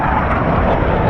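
Engine drone of fighter planes flying over in a video game, a loud, steady broadband roar that fills the clip without a break.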